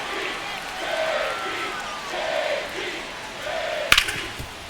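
A baseball stadium crowd at a Mariners vs. Reds game rises and falls in rhythmic chanting, with a sharp crack near the end and commentary speech over it.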